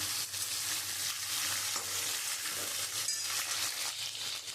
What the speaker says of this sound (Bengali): আমি আলুটা একটু লাল লাল করে ভেজে নেবো তা আমি এখানে আমি কাঁচা লঙ্কাটা দেবো কাঁচা লঙ্কা আলুর সাথে ভাজা হয়ে যাবে